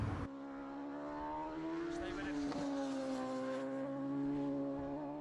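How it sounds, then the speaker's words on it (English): Racing motorbikes at the Isle of Man TT Super Stock race, a high engine whine that holds steady and shifts slightly in pitch as the bike passes, heard alongside a commentator's voice. "now the racing does continue with the Super Stock event"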